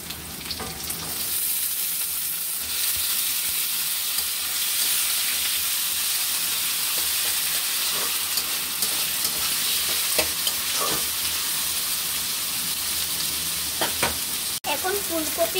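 Potatoes go into hot oil with already-fried onions in a kadai, giving a continuous hissing sizzle with scattered stirring clicks and scrapes, close and steady throughout, no one talking.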